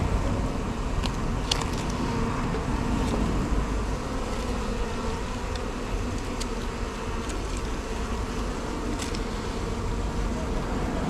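Bees drone in a steady, continuous buzz around a bin while the last of the colony is being removed, with faint traffic hum in the background and a few sharp higher buzzes passing near.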